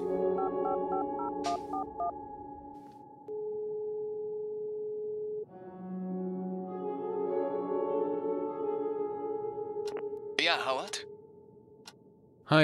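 Telephone call in the Darkness Within video game: tonal dialing beeps and a ringing tone, followed by a steady electronic tone and short clicks, clear and close.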